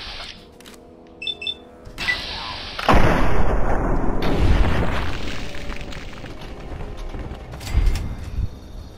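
Gunfire from the video game Fallout 3 in the Broken Steel add-on on a launch platform, a few loud booming shots with long rumbling decay over faint electronic game tones, no speech.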